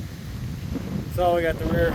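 Wind gusts blow across a microphone outdoors at a woodshed addition under construction, a low buffeting rumble under someone talking.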